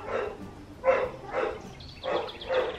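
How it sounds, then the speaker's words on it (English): Dogs barking downstairs in a home, five rounded woofs spaced about half a second apart, moderately quiet and muffled as if from another floor, with no talk over them. "They're downstairs barking."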